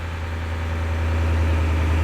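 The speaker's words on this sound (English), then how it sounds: "I'm not stepping, but the engine RPM is high." A Ford E350 van engine runs at raised idle-high RPM while a scan tool runs its self-test, with no foot on the accelerator. A steady, loud, close drone with a deep low hum holds even throughout, and nobody speaks.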